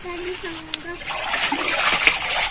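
Well water splashes and sloshes as eggplants are rinsed, with a voice talking briefly at the start.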